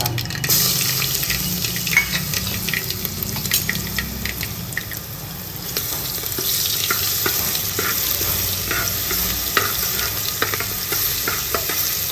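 Steady sizzling of asafoetida and a ginger, chili, garlic and curry leaf paste frying in hot oil, with occasional scraping and stirring clicks throughout; no voices.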